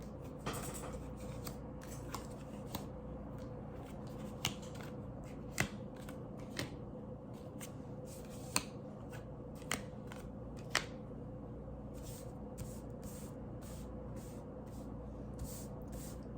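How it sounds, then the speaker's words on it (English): Tarot cards laid one by one onto a table in a pyramid spread, with soft card slaps and crisp snaps at irregular intervals over steady low background hum, and no voices. "I'm going to do a brief card spread on the table, a pyramid spread, starting from the bottom to the top"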